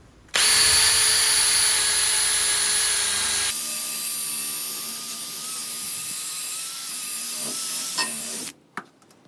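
Power drill working off metal brackets on a WB ute under restoration, a loud, steady high-pitched whine with a pitch drop partway through, running almost continuously before cutting off abruptly near the end.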